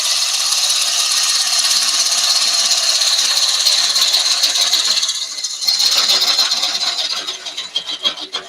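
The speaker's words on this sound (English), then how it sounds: "just use the parting tool just to straighten off the edges." A parting tool cuts against a spinning wooden box on a lathe, giving a continuous close rasping scrape over the hum of the machine, roughening and fluctuating partway through.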